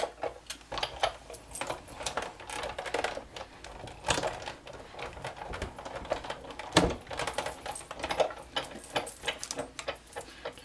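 A Big Shot die-cutting machine presses dragonfly shapes from black cardstock, giving a busy series of close clicks, clacks and rattling handling noises throughout, with no voice heard.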